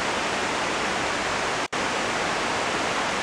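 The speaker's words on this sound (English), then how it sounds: "there is another little miniature waterfall right here" A small miniature waterfall pours in a steady, dense hiss of rushing water, close and continuous, with a brief dropout midway.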